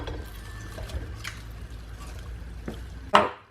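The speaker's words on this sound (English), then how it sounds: "So we will start with olive oil, and we're going to add all the onions" Onions tipped into olive oil in a cooking pot for a Moroccan saffron chicken tagine: soft clatter and low stirring noise, ending in a sharp, loud metallic clank near the end.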